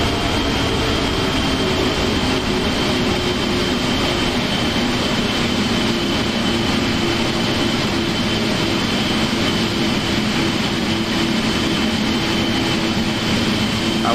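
Airliner taxiing to its parking spot in the Prepar3d flight simulator, a loud, unbroken jet engine roar with a steady whine that holds throughout, with no talking.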